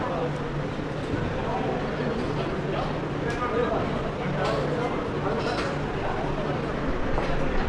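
A metro train pulls into a station, a continuous loud rolling rumble with faint rhythmic clatter of wheels on rails, close and steady, with people talking throughout.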